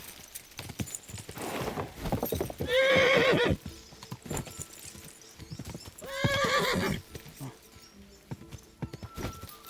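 Horse hooves in the video game Kingdom Come: Deliverance 2 clip-clop rapidly in a galloping rhythm, with two loud whinnies standing out over the steady pounding.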